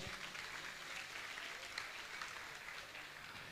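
An audience at a Jain religious gathering applauds to honour guests, a faint, distant, steady patter of many hands clapping that continues throughout.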